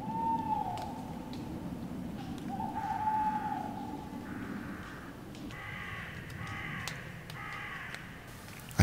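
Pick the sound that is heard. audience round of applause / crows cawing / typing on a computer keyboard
crows cawing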